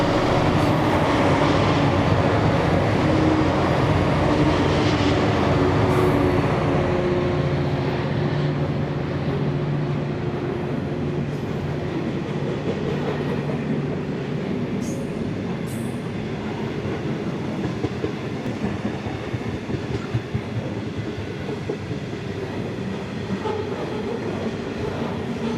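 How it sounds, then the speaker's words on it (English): Four Pacific National 82 class diesel locomotives haul a grain train past, the heavy engine drone fading as rumbling wagons and rhythmic wheel clatter take over, with occasional squeals. "4 82 class Pacific National diesels passing through with a grain train"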